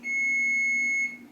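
A kitchen oven gives a single sustained electronic beep lasting about a second, clear and loud, then cuts off into quiet room noise.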